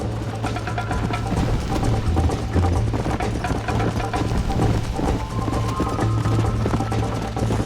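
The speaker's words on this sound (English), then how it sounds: "You're gonna wear that horse out!" Horse hooves galloping in Red Dead Redemption, a fast, steady clip-clop that runs continuously and loudly for several seconds, with no voices over it.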